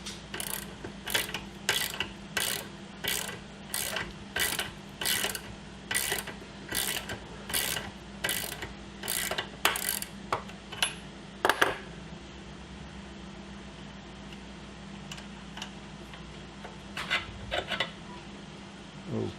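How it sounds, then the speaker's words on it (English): Pin being worked out of the left link bar of a Mark 7 650 autodrive held in a vise: a run of about a dozen evenly spaced sharp metallic clicks, then a few scattered knocks and scrapes, close and fairly loud over a steady low hum. "we're going to remove the bottom pin from the left link bar."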